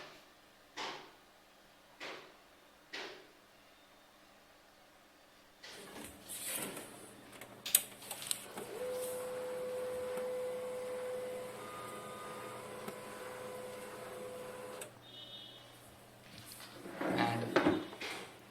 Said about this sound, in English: I just turn on my printer.